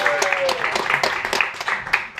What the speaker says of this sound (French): Voici de nouveau notre merveilleuse vedette, Adonis, sous vos applaudissements.